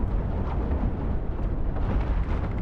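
Overclocked flak cannons in the space ship game Cosmoteer fire and burst continuously, producing a loud, dense rumble of overlapping explosions that never lets up and has no talk over it.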